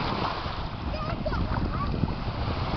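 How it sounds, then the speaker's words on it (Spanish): Wave splashing against a boat, a continuous close rush of water and wind noise with excited voices talking over it. "Ahora, viene la ola."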